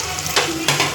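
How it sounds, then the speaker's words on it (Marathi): Tomatoes with onion and spices fry in a pan for khichdi, a close steady sizzle with two brief louder bursts of hiss as the mixture is stirred. "त्याच्यानंतर टमाटे टाकून घेऊ."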